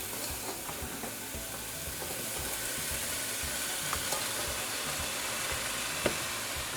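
Trinidadian-style fried rice crackles and sizzles in a hot pan, a continuous close frying hiss with scattered pops and faint scraping of stirring, and no talking.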